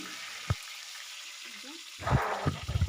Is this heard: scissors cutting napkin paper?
no